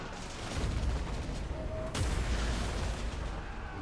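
Artillery units firing in Total War: Warhammer 2 during a High Elf siege battle, heavy booming shots rumbling under a steady battle din, with one sharp blast standing out midway.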